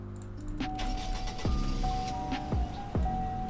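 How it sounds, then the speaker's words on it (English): A 2015 Chevrolet car in the video game Greenville cranks and starts, a short series of engine turnover bursts settling into a steady idle hum, heard alone and fairly faint. "here's the startup"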